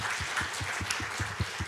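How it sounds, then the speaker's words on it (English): Applause from a conference audience, a steady wash of many hands clapping with regular rhythmic pulses, moderately loud and without voices over it. "Applause for Pak Irwanto."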